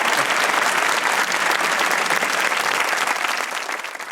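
A studio audience at a comedy talk show with a Pakistani cricketer as guest breaks into loud, dense applause that holds steady, then begins to taper off at the end.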